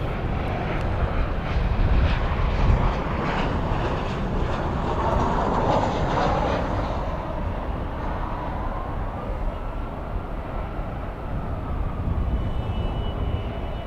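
A Volaris Airbus A320 lands at night at Dallas/Fort Worth International Airport, its thrust reversers deployed, making a loud sustained jet roar that swells and then slowly fades, heard from a distance.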